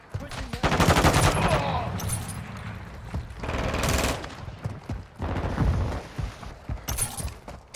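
Rapid gunfire from a Kill Confirmed match on the Shoot House map, loud bursts of automatic fire and single shots crackling in clusters, with shouted game voices breaking in between.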